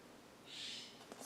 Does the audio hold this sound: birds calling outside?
yes